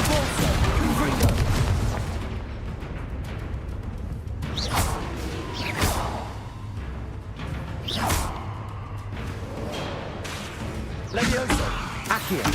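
Confringo and Depulsor spell blasts in the video game Hogwarts Legacy, a series of loud booms and whooshing bursts spaced a few seconds apart amid busy combat noise, with a voice talking over them.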